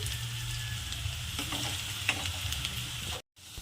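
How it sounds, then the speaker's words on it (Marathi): Finely chopped onions fry in oil in a pan for dum aloo, giving a steady close sizzle with light stirring scrapes and a brief break near the end. "आता यामध्ये आपण कांदा ॲड करू त्याला छान ब्राऊन कलर येईपर्यंत परतून घ्यायचं आहे"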